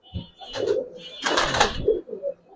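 Giribaz pigeons coo in a loft, a few close, soft rolling coos and murmurs in short irregular phrases, with no talk over them.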